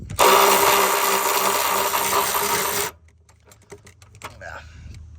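A Seesii cordless ratchet wrench removing bolts, a loud steady buzzing whir running for several seconds before cutting off, followed by faint scattered clicks and clatter of sockets and metal.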